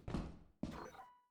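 Two heavy, dull thumps from the Thumper monster in Lethal Company, spaced about half a second apart, muffled and fairly faint with short decaying tails.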